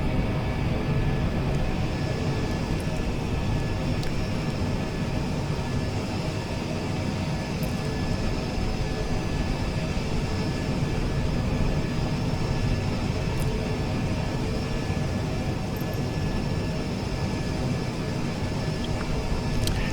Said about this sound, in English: we've got an all-white A220, maybe, or 320? Anyway, it's going to be pulling out.